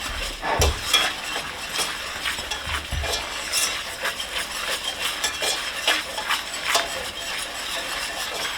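Roux for turkey gravy browning in a pan while being whisked, giving a steady close sizzle broken by sharp metallic scrapes and clinks of the whisk against the pan, with no talking.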